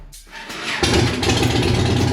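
A motorcycle fitted with an aggressive open air intake starts up and settles into a loud, close, rumbling run that holds steady after a sharp onset, with no talk over it.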